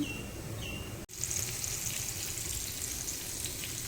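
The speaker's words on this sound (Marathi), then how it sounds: "मस्त मच्छी फ्राय होती आहे" Surmai kingfish coated in green masala paste of coriander, green chilli, garlic and ginger, with rice flour and rava, fries in a pan at an Alibag fish market stall, giving a steady close hiss broken once by a brief dropout.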